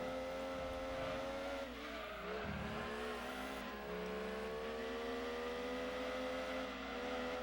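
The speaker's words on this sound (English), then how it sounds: "Doesn't it sound like there's many cars around?" Race cars in the Gran Turismo 2 video game hold a constant high engine whine, with tire squeals and skids breaking in briefly near the start, steady and loud throughout with no voices.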